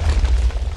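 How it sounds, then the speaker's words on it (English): Whip cannon explosions in a video game match, a loud, continuous, low rumbling boom with rolling blasts close by, no talk. "that whip cannon is totally destroying this area"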